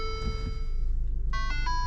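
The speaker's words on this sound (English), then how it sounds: "That's funny, the Lincoln chimes. Sounds more classy, I guess." Push-button start chimes in a Lincoln Corsair cabin: a short sequence of two or three clean, bell-like tones near the end, over a steady low engine or cabin hum.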